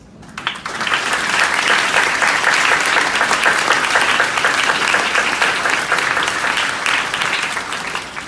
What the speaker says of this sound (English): I think there's another round of applause, please.